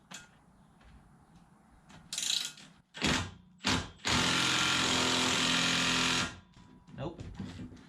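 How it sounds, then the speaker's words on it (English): A 3/8 impact gun hammers on a seized wheel bearing of a Pontiac G6, a couple of short bursts followed by one long loud rattling run of about two seconds, close up with quiet shop noise between. "Let me see if I can maybe put the impact gun on it, 3/8, and run it in."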